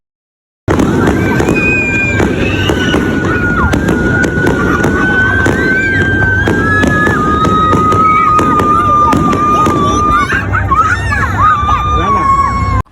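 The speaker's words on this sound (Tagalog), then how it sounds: "Ito na nga ang ating majestic fireworks" A majestic fireworks display crackles and pops continuously, loud and close, with a high whistling tone rising and falling above the bursts and a crowd murmuring underneath.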